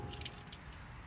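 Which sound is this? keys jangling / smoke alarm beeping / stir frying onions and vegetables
keys jangling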